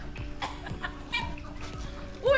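Chickens cluck in short, repeated bursts close by at a Romanian country house, with a brief high squawk near the end and some background noise.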